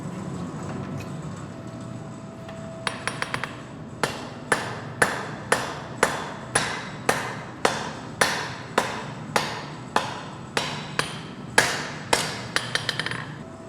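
A hammer forges a knife blade on an anvil with a few quick taps, then a long, evenly spaced series of loud ringing blows, each strike close and sharp with a bright metallic ping.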